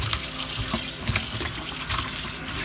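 Raw octopus is rubbed and washed by hand under running tap water, a steady splashing flow with wet squelching handling and a few knocks, close by, no voices.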